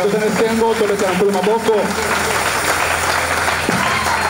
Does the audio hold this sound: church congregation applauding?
yes